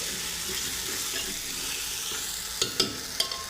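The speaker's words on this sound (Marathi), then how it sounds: "चला तर हिंग पण घालून झालेली आहे आपली थोडं एकदा परतून घेतो" Asafoetida sautéing in hot oil for tempering, a steady even sizzle with a few short scraping clinks of stirring near the end, no talking.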